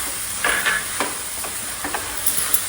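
Soaked thick poha being stirred in a hot pan, with soft spatula scrapes and light sizzling repeating every half second or so, close and moderately quiet.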